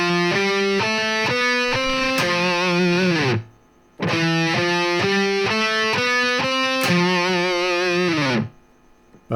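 Distorted thrash metal guitar plays a riff whose closing Phrygian-scale fill rises in quick picked notes, heard twice with a short gap between the two loud passes.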